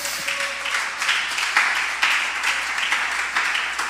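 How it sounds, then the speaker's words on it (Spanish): Church congregation applauding during a Spanish-language sermon: a dense, fairly loud wash of hand clapping with a low steady hum underneath, continuing unbroken for a few seconds. "Denle un aplauso al Señor."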